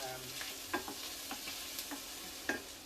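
Pork browning in a pan during home cooking gives a steady soft sizzle, broken by a few brief clinks and scrapes of stirring.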